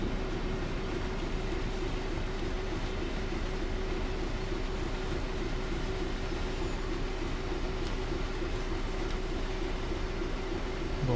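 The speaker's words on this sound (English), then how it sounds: "perfectly timed, we get to see another freight train" A freight train in a UK railway simulator rolls past as an intermodal service in DB red, a steady, dense rumble of wagons running continuously with a constant low drone and no pauses.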